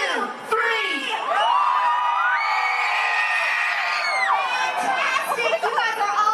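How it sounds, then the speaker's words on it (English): A large crowd of children screams and cheers together at a Disney World or Disneyland character show, a sustained loud roar of shrill voices rising to a peak and holding for several seconds before tapering off. "I want to hear a big green team scream on 3."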